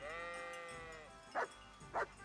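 Sheep bleat in a medieval village scene from Kingdom Come: Deliverance, one long wavering bleat followed by two short sharp calls, fairly close and alone with no talk.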